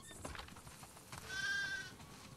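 Sheep and goats bleat in the game The Last of Us Part II, one long wavering bleat standing out amid faint farmyard rustling and shuffling, quiet and a little distant.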